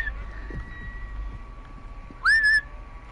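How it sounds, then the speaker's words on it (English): Someone gives a short, clear whistle that slides upward and holds steady for about a third of a second, heard close over a low steady hum and background rumble. "Stop whistling"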